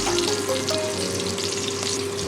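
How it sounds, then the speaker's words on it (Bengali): Pointed gourd pieces frying steadily in hot oil, a continuous close sizzle and crackle with no talking. "কিছুক্ষণ ভেজে আমি তুলে নেব।"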